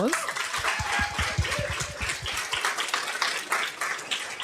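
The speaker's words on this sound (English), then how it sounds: "Let's give her a round of applause." An audience at an academic book launch event applauds a speaker being invited to the stage, steady clapping running throughout with a voice speaking over the start.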